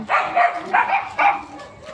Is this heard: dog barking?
yes